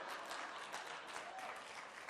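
Steady audience clapping at a corporate speaking event, a faint, even wash of many hands that continues unbroken without voices on top.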